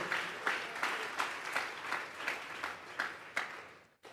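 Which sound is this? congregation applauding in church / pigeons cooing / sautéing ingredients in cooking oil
congregation applauding in church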